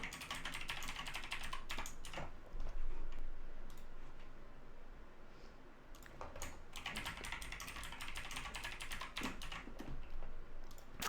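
Password being typed on a computer keyboard during software setup, a soft, steady patter of close key clicks in two bursts separated by a brief lull, no voices.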